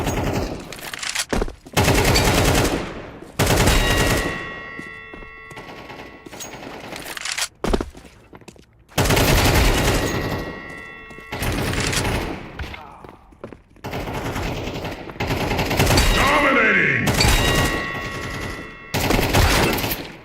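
Bursts of rapid gunfire from a shooting video game, loud and close, arrive in repeated volleys separated by short gaps, with some talk and game noise between them.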